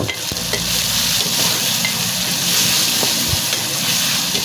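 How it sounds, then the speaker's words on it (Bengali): A spoon stirs chopped onion, tomato and salt in a hot pan for a dry fish curry, giving a loud, close, continuous sizzle with faint scraping and occasional light taps. "একটা চামচের সাহায্যে লবণগুলো ভালোভাবে যাতে মিক্স হয় সেজন্য একটু নেড়ে চেড়ে দেব"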